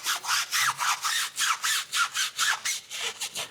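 A brush scrubbing a tire coated with Armor tire product, a quick rhythmic series of about a dozen bristly rasping strokes, close and fairly loud, with no voices.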